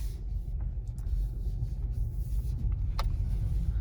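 A 2021 Volkswagen Golf 8 R-Line drives along a neighbourhood street, heard from inside the cabin as a low, steady rumble of engine and road with a few faint clicks and ticks, no voices.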